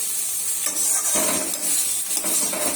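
Ground spice paste fries in a pan while being stirred, giving a loud, continuous close-up sizzle with bright hiss and scraping stir strokes, and no voices.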